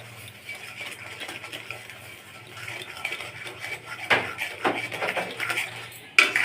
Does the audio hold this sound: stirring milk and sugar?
yes